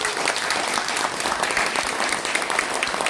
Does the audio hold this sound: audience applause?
yes